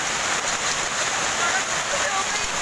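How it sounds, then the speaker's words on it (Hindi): Large hailstones pour down on a road and park during a severe Delhi hailstorm, making a dense, unbroken hissing clatter that stays loud throughout, with faint voices beneath it. "कितना ओला पड़ रहा है बेटा, पीछे हो जाओ, बहुत मोटे ओले हैं ये"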